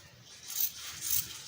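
Scissors cutting through gown fabric, two soft, close, crisp snips in a row, each a brief rising swish of blade on cloth in a quiet room.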